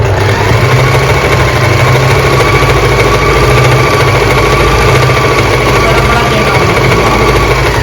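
An Usha Wonder Stitch Plus electric sewing machine runs close by with a loud, continuous, steady motor drone and rapid mechanical vibration that holds unbroken throughout.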